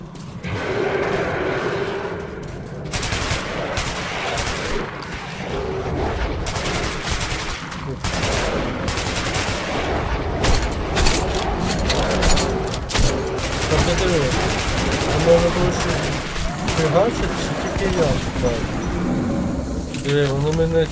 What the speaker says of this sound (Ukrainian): Давай спробуємо автомат.